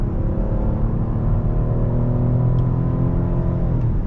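A 2023 Cadillac XT6 Sport's V6 engine pulls steadily under acceleration, a continuous low rumble with rising harmonic tones heard from inside the cabin, with no voices over it.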